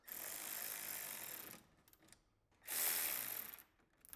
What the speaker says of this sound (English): We're gonna use this T30 socket to button up these 4 bolts at the top, ratchet to power them in a little bit,